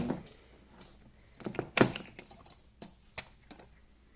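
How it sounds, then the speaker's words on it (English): An antique glass jar with a glass ball lid being handled: scattered sharp clinks and hollow knocks of glass against glass, irregular and close, with a few louder taps among quieter rattles. "a glass ball lid."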